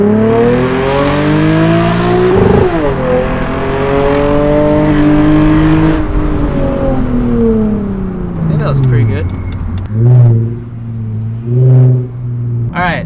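A tuned Lexus IS250 revs up through several gears, pitch rising in long sweeps with shift dips between, then eases off and gives two short blips near the end, loud and close with someone talking over it.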